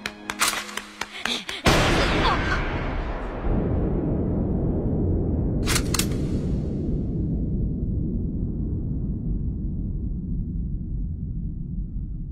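Pistol shots ring out in a One Piece anime scene as a Celestial Dragon noble fires at Hachi: a quick cluster of sharp cracks at the start, then a tight double burst midway, all over a steady rumbling backdrop.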